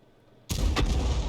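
A single loud, booming shot from the 105 leFH18B2 tank gun in World of Tanks, breaking abruptly out of near quiet, with a short ringing tail after the blast.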